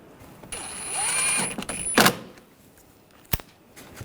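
Valve cover screws being secured on a 2006-2010 BMW 550i 4.8L V8: a brief mechanical whir with a thin whine, then a sharp rattling burst and a single later click, close and fairly quiet.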